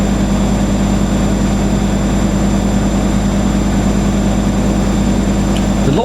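Drum of a Siemens IQ300 WD14H320GB/02 washer dryer spinning on a cottons 60ºC cycle, a loud steady droning hum with a constant low rumble and faint whine, with no talk.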